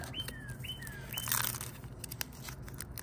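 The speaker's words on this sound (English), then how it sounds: "Birds are chirping loud." A few high, sweeping bird chirps repeat early on, followed by a rustling crinkle and faint clicks over a low background hum.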